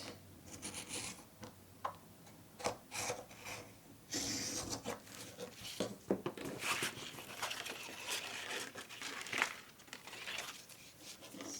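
A Creative Memories circle cutter with a blue blade is being run around paper, making quiet scratchy scraping and rasping strokes in uneven bursts, close up and faint, with no talking.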